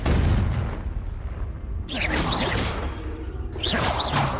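Blasting spell effects cast repeatedly in Hogwarts Legacy gameplay, loud whooshing bursts and booms with a bright crackling tail, several blasts in quick succession over continuous game rumble.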